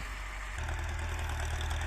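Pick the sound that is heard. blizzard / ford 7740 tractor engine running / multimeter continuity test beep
ford 7740 tractor engine running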